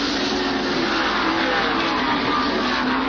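Bill Elliott's stock car at the 1988 Budweiser 500 accelerates away from a pit stop, a loud, steady high-pitched engine roar that holds throughout at close range with no talk over it.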